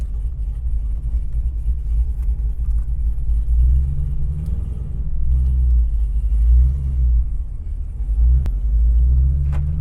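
A deep, rumbling Camaro ZL1 engine with an aggressive cam and about 690 rear-wheel horsepower idles and revs with a lumpy, uneven throb, loud and close, no talking.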